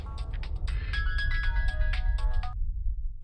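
A melodic phone ringtone plays a rapid run of bright electronic tones over a low background rumble, then cuts off abruptly.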